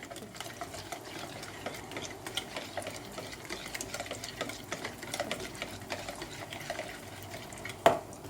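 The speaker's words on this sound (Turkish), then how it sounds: "şöyle bir çırpıcı yardımıyla karıştıralım malzemelerimizi" A whisk beats yogurt, egg and other ingredients for a walnut roll dessert in a bowl, a quick, steady rhythmic tapping and swishing that stays close and soft, ending with one sharper knock.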